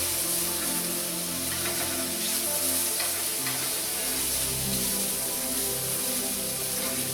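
Beef and mushrooms sizzle steadily in a stainless steel pan, a dense, close, constant frying hiss with faint crackles and occasional stirring, no voices over it.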